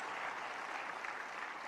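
A church congregation at a conference applauding to bless missionaries, a dense, even wash of many hands clapping at moderate volume with no break.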